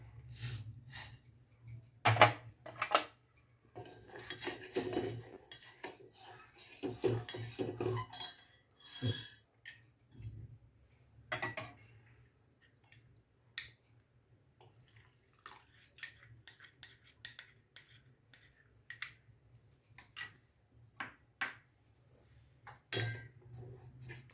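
A spoon stirring milk and sugar in a pot for a no-bake Mexican pudding, soft intermittent scrapes and clinks of metal against the pan, quiet and close, with no talking.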